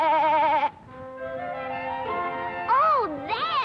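Sheep bleating in Texas sheep country, a series of loud, wavering, nasal cries, one long call followed by quavering bleats that rise and fall, close to the listener with no talk.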